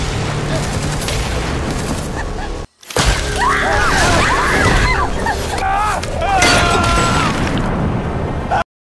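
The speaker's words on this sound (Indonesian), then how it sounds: "BR1 muncul dan segera terjadilah baku tembak." Gunfire from a film shootout with a robot, dense bursts of shots and impacts mixed under a loud music score and effects, with a brief silent gap early on before the firing resumes.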